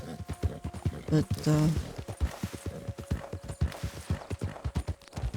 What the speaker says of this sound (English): I definitely prefer having war horses in this game compared to the race horses